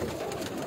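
A Shahzadi breed pigeon perched on a rooftop gives a short, close, steady coo.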